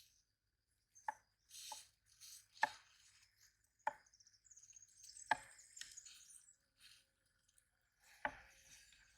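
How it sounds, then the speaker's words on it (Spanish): A knife chops garlic on a cutting board in a rice-cooking class kitchen, a few sharp, separate knocks spaced irregularly with quiet handling noises between, close and clear. "aquí lo picamos en lugar de laminarlo"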